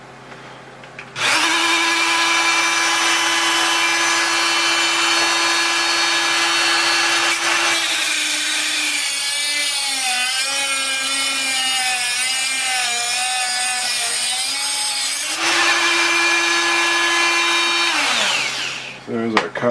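A power tool runs steadily for about eighteen seconds, cutting a part for a model base, with a loud constant whine whose pitch wavers and drops mid-cut as it bites into the workpiece before returning to a steady drone.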